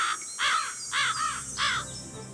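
Crows caw in the Nancy Drew game Ghost Dogs of Moon Lake, four harsh, evenly spaced calls in quick succession, fairly close and clear over a faint ambient background.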